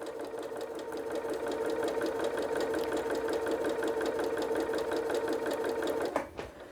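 Sewing machine chain piecing quilt blocks, stitching in a fast steady mechanical rhythm close by, running continuously before stopping near the end.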